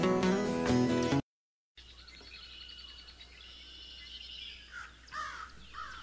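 Crows caw a few times, faint to moderate, over quiet outdoor ambience after a brief burst of cartoon music and a short silence.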